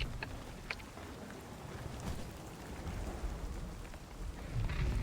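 Steady rain with a low thunder rumble swelling near the end, heard in a video game with no talk over it.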